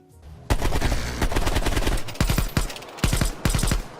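Rapid automatic gunfire from the video game Call of Duty: Cold War, loud close bursts of sharp shots in quick succession, broken by short pauses between strings of fire.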